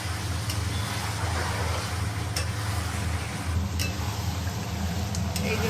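Stirring chicken posto, a Bengali poppy-seed dish, in an oiled pan: a steady, close sizzle with a scraping stir and occasional light clinks.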